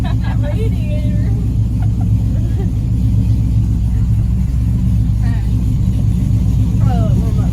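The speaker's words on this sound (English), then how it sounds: "The idle is so clean now." A car engine idles steadily with a constant low rumble, while people talk over it throughout.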